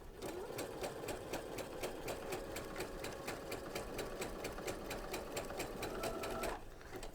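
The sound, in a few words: sewing machine sewing sequin ribbon with sequins foot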